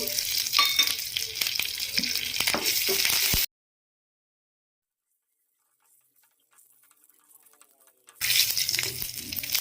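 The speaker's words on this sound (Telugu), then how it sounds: "పోపుకి సరిపడినంత ఆయిల్ వేసుకొని కొంచెం మరిగిన తర్వాత అందులోకి కొంచెం జీలకర్ర ఆవాలు ఎండుమిర్చి కరివేపాకు కావాలనుకుంటే ఇందులోని వెల్లుల్లిని కూడా వేసుకోవచ్చు" Cumin, mustard seeds, dried chillies and curry leaves sizzle and crackle in hot oil for tempering while being stirred. The frying cuts out abruptly into near silence, then returns just as busy near the end.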